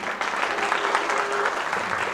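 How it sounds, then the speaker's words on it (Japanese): An audience claps during a talk by an armored samurai reenactment group: a steady, even wash of many hands clapping at moderate volume, continuing without break. "拍手なの、それはね"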